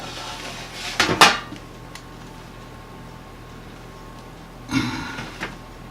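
Metal pizza pan handled in a kitchen: a sharp clatter and scrape near the start, then quiet, then a second softer rattling knock of the pan.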